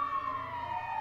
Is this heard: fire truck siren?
yes